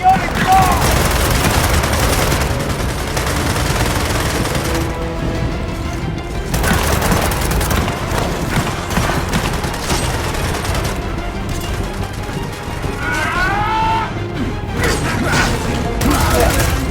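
Gunfire in the video game Gears of War 4 during an assault on a base's comm towers: dense, loud bursts of automatic fire and crashes run continuously throughout, with brief shouted voices over the battle.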